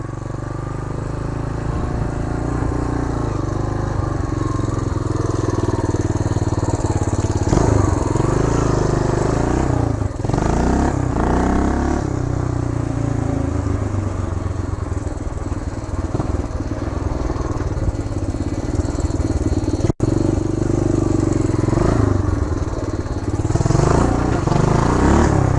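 A 1975 Honda Redline Powroll 412cc motorcycle roars loudly and continuously while being ridden. Its engine drones and rises and falls in revs throughout, with occasional clatter.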